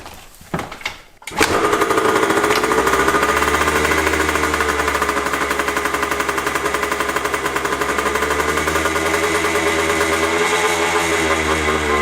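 An abused dirt bike that had not been running fires up after a second of rustling and cranking, then settles into a loud, steady, close engine drone that holds evenly to the end.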